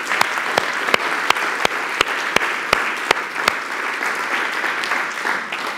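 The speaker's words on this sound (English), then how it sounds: "can we give them a round of applause?" A conference audience applauds steadily, a dense wash of clapping with a few sharp, louder claps standing out near the front.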